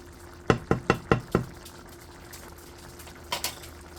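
Pork adobo with coconut milk simmering in an uncovered pot as the liquid cooks down: a low, steady bubbling bed, opened by a quick run of five sharp knocks, with two softer clicks near the end.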